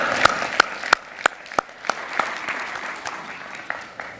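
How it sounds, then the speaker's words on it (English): Scattered audience applause at a college commencement ceremony in a fine arts hall, honoring family and friends of the graduates; sparse, distinct claps ring out at an uneven pace, moderately loud in a reverberant room. "give them a round of applause for being part of your journey of success here at WKCTC"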